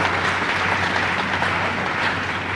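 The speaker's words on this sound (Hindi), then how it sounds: "सैनिकों को, पुलिस के जवानों और स्वास्थ्य कर्मियों के लिए जोरदार ताली बजाए" A crowd at a road-show rally in Jabalpur claps for soldiers, police and health workers. The applause is a dense, steady burst heard on its own.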